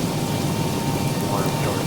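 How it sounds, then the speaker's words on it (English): Rain patters against the windows of a JetBlue airliner cockpit at West Palm Beach, a steady broadband hiss and rumble that fills the whole clip. "there's some rain out there"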